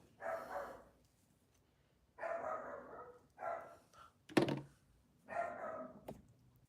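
A nearby dog barks repeatedly in short, spaced bursts, with a sharp click or thump between barks.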